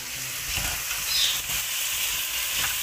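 Chicken sizzling steadily in a hot pan with soy sauce and chili sauce, a continuous crackling fry at close range with faint stirring and no voices.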